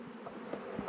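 Honey bees around a hive bringing in pollen near alfalfa fields give off a faint, steady buzzing drone with light wind noise and no speech.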